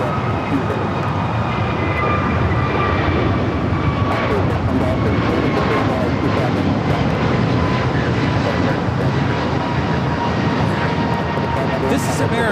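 An American Airlines A321neo takes off at LAX, a steady, loud, broad engine roar that holds for the whole stretch. Faint voices sit under it.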